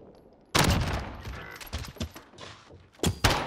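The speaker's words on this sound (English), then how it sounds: "Oh, that's a nade." A grenade blast in the Call of Duty Modern Warfare video game lands as a sudden loud boom after a short quiet stretch, followed by rumbling gunfire and a second pair of sharp bursts near the end.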